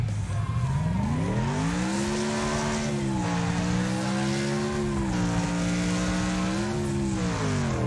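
A car engine in a racing video game revs up steadily, its pitch climbing and then holding with small dips as gears shift, loud and continuous with a faint tire squeal, no talk.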